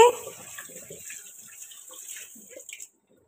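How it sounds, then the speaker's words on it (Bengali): Tap water running in a kitchen sink while fish are washed, a brief close gush that steadies into a thin trickle and stops abruptly. "ওখানে জল দিয়ে দে তো একটু, আর মাছগুলো ধুচ্ছি।"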